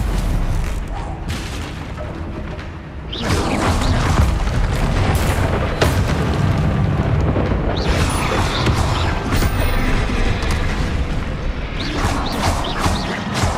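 Spell blasts in the Hogwarts Legacy video game, Confringo and Incendio, rendered as loud, sustained booming and crackling bursts with crashing impacts, building after a quieter opening and rolling on steadily to the end.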